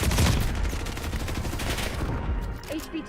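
Sustained video game gunfire, rapid bursts of automatic shots layered with heavier booms, dense and loud at first, then easing into a few scattered shots.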